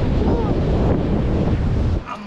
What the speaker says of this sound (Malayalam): ഭയങ്കര തണുത്ത കാറ്റ്